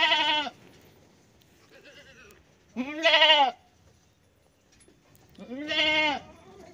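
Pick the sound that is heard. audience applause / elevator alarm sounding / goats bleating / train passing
goats bleating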